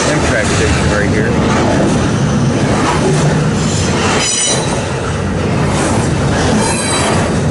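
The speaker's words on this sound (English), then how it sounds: "The new Tyrone Amtrak station right here." A train passes through the Amtrak station at Tyrone, Pennsylvania, a loud, continuous rumble of rolling railcars with wheel squeal and brief high squeals, close by, with no talk.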